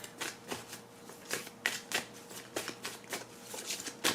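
Karma cards for a tarot-style reading are shuffled in a quick run of soft riffling flutters and light slaps, close and quiet.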